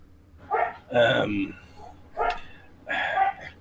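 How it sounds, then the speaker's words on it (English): A dog barks several times in short bursts nearby, mixed with people talking close by. "The dog's barking."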